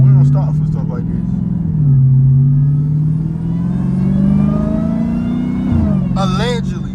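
A supercharged Dodge Hellcat running without its hood revs and pulls hard, a loud, steady low engine drone rising and falling over about seven seconds, with a voice talking over it.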